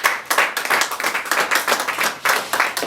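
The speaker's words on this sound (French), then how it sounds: "Applaudissements." A small group claps at an official ceremony for newly named peace ambassadors, a brief burst of lively hand applause, close and uneven, lasting a few seconds.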